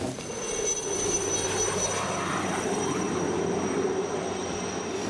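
A mountain rescue helicopter in the Alps near Zermatt drones steadily throughout, a broad sustained engine and rotor roar at moderate distance, with no voices.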